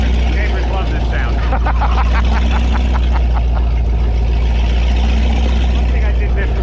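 A 2002 Donzi Classic 22 boat's engine runs steadily with a loud, deep low rumble throughout, with people talking over it.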